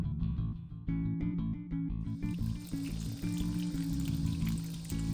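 Solar-powered water fountain in a garden birdbath, continuous close splashing and trickling of water falling into the bowl, steady and moderately loud throughout.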